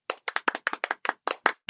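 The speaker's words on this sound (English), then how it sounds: "give them a little round of applause" About a dozen sharp, distinct claps in an irregular rhythm, close and fairly crisp, sounding like a single person or a few hands clapping on a podcast rather than a crowd.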